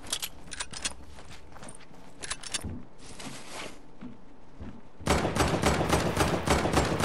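Video game gunfire in a multi-team firefight: scattered distant shots and bursts, then sustained rapid automatic fire becomes louder and closer toward the end.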